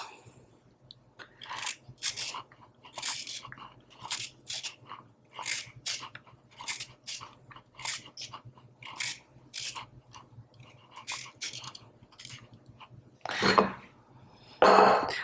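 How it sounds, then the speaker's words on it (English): Carrots being peeled for a fennel citrus salad, a steady run of crisp rasping strokes close by, each short scrape repeating in a brisk rhythm, with a couple of louder knocks near the end. "we'll just peel the carrots"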